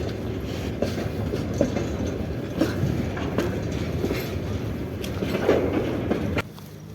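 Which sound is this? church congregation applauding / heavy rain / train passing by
train passing by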